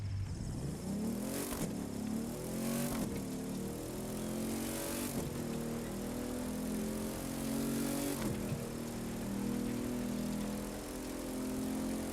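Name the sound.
Hummer HX Concept engine accelerating, from video game The Crew 2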